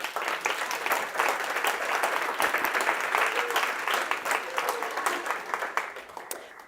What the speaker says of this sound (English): So please join me in applause for you.